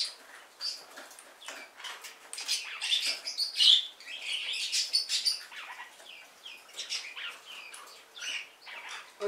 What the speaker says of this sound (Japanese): あそこにほらウロコインコがおるからね